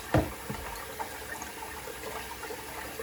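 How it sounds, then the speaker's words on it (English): Water splashing and running while a bowl is rinsed out, with a quick gush at the start followed by a steady low trickle and a few small splashes, close by and moderately loud, no talking. "Rinse out my bowl."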